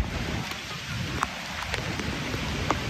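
Heavy monsoon rain pounds down on the trek to Devkund waterfall in a thick, continuous roar, close and loud, with scattered sharper splashes.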